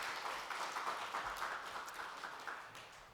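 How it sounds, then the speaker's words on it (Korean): A church congregation applauds during a Sunday worship service after a choir's hymn, a steady, fairly faint patter of many hands clapping together in a reverberant sanctuary. "우리 박수하겠습니다."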